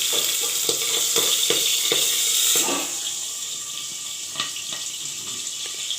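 Pabda fish fries in oil inside a covered pan, giving a steady sizzling hiss with sharp crackles and pops scattered throughout; the sizzle eases slightly after the first few seconds.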